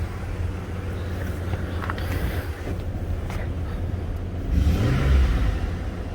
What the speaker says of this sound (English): Man, that thing revs right up.